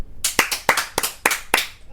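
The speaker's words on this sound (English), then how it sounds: "let me clap" A single person claps six sharp, separate times with uneven gaps, close and clear in a podcast studio, with no talking over it.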